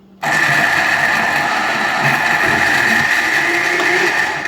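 A blender mixing guava juice with milk and sugar starts abruptly and runs loud and close at a steady, even whir to the end.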